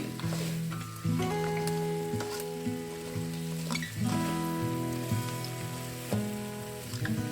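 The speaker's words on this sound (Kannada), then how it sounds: "ಒಂದು ಐದು ನಿಮಿಷ ನಾವು ಇದೇ ಎಣ್ಣೆ ಫ್ರೈನಲ್ಲಿ ಹುರ್ಕೊಬೇಕು ಮಸಾಲೆ ಇರುತ್ತಲ್ಲ ಹಾಗಾಗಿ ಇದನ್ನು ಚೆನ್ನಾಗಿ ಫ್ರೈ ಮಾಡ್ಕೊಳ್ಳಿ" Crab masala frying in oil, a steady sizzle running the whole time with a sustained tonal hum beneath it and a few brief clatters, and no talking.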